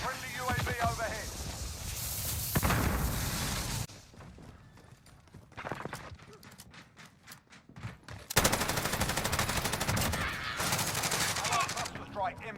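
Light machine gun fire in Call of Duty Modern Warfare from a Bruen MK9 LMG, loud dense bursts in the opening seconds and again near the end, with quieter scattered shots and game effects between.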